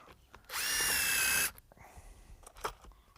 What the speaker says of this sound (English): we'll attach it with our 1-inch construction screws